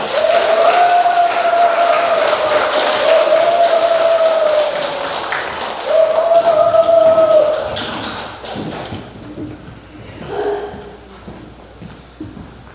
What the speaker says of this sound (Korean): 여러분의 힘찬 박수로 맞이하겠습니다